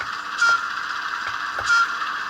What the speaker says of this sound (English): Nice little hoot, and a double hoot.